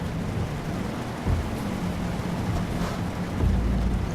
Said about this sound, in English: if it stopped raining too, it would be good